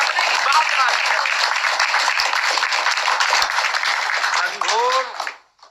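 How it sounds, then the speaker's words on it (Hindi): Dense applause from a crowd at a late-night gathering, a steady wash of claps filling the clip before tapering off, with a voice cutting in near the end. "रात के 12 बजे घनघोर तालियों की वर्षा हो रही है"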